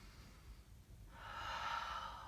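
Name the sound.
yoga breathing in and out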